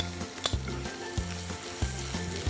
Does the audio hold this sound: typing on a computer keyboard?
no